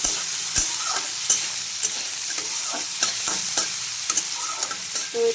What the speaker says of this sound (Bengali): এই রসুন আর আলু একসঙ্গে ভাজবে।